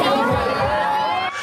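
A street crowd in Taormina greets Monica Bellucci at the film festival, a steady dense murmur of chatter and cheering voices throughout.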